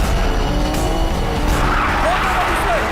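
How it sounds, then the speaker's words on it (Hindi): A car chase in a dubbed action film, cars speeding with tires skidding: loud, constant engine roar and squealing tires throughout, with brief shouted voices mixed in. "वो तेज चला रहा है, तुम भी तेज चलाओ।"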